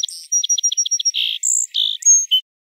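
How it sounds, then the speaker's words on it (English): A song sparrow sings a complex song, starting with a rapid series of clipped, evenly spaced high notes and moving into buzzy trills and bright tonal whistles. It is close, clear and alone against silence. "like the song sparrow."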